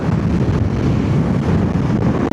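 Strong wind buffeting the microphone during a motorbike ride toward Valparai, a steady loud roaring rush with no breaks.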